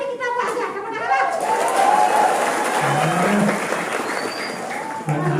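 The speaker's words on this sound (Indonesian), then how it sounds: "Mari tepuk tangan berarti kita puasa." Crowd applause ringing out at a Balinese temple show of Cupak Grantang at Pura Puseh Peninjoan, Tembuku, steady clapping for several seconds mixed with voices talking over it.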